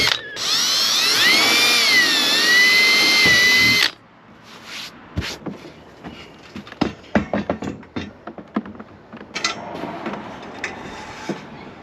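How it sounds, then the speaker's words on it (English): A power drill boring out holes during modifications on a Toyota Tacoma, a loud sustained whirring run for several seconds that cuts off, followed by scattered clicks, taps and clanks of tool handling. "Drill these holes out a little more."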